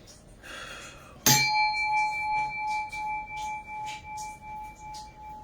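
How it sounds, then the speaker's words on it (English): A singing bowl is struck once to align the chakras, giving a sharp metallic strike followed by a long, pure ringing tone that pulses gently as it slowly fades. "I'm going to go ahead and do the bowl. This is to align the chakras."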